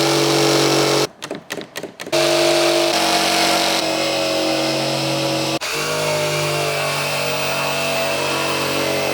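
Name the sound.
jigsaw cutting wood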